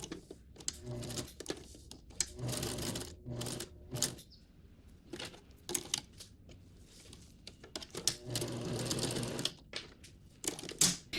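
A sewing machine stitches around a snowman appliqué on an apron in short, quiet start-stop bursts, with clicks and pauses between runs.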